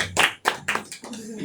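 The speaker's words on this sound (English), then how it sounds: "So please a big applause for my friend Beth MacDonald." Audience clapping for a poet at a music and poetry night, a few loud distinct claps close by, sparse and uneven rather than a full roar.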